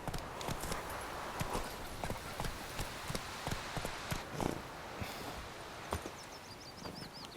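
Horse hooves clip-clopping in a steady trot in The Witcher 3 on PS4 Pro, close and rhythmic over faint ambient game sound, with a brief whinny-like tone near the end.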